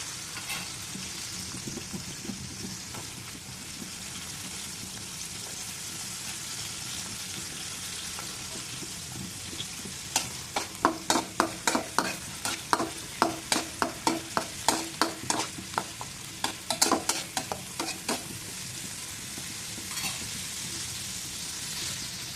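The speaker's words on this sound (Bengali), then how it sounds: "চিংড়ি মাছগুলো হয়ে এসেছে সেই মধ্যে আমি এখন পেঁয়াজ কুচিগুলো দিয়ে দিচ্ছি" Chopped onions sizzle in hot oil alongside cooked prawns for a Bengali prawn and eggplant curry, a dense continuous frying hiss with a run of rhythmic spatula scrapes midway, close and fairly loud, no talking.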